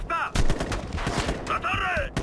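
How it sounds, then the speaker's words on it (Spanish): Machine gun fire in the video game Ghost Recon Future Soldier, rapid loud bursts of automatic gunshots with shouted voices and radio calls mixed in. "¡Ametralladora!"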